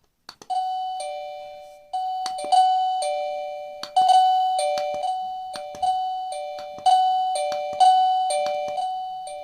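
A Fuers wireless smart doorbell chime plays repeated ding-dong tones over and over in a steady rhythm, bright and clear, with nothing else audible.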